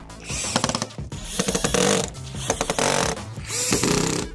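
A screw is driven into the plate of a Quantum Byte 3 mini PC, heard as three close bursts of rattling, ratcheting mechanical whirr separated by short pauses.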